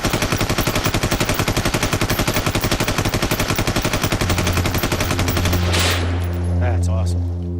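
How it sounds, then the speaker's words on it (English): 416 assault rifle firing on full automatic in a long, rapid, evenly spaced burst of loud close shots, then stopping abruptly with a ringing decay. "Special operation units prefer smaller assault rifles. They're compact but still offer automatic and semi-automatic rates of fire."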